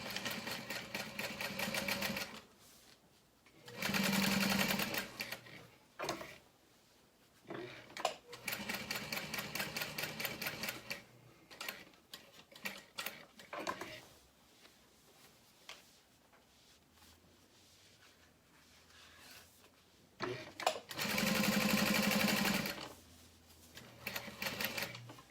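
A sewing machine stitches a leather clutch wallet in several separate bursts of rapid needle clatter, with quieter pauses and handling noises between runs, close by and without speech.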